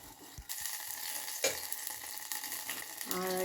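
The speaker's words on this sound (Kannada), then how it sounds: "ಇದನ್ನು ಈಗ ಒಗ್ಗರಣೆ ಹಾಕ್ತೀನಿ" Ground tomato mixture goes into a sizzling tempering (oggarane) in a pan, a sharp burst of frying hiss right after a soft thud, then a steady close sizzle with a stir near the middle and a tonal hum at the end.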